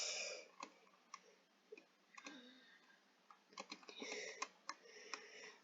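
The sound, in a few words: computer keyboard typing, pressing backspace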